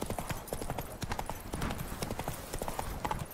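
Horse hooves clip-clop in the video game The Witcher 3: Blood and Wine, a steady, brisk rhythm, close and fairly quiet, with no voices over them.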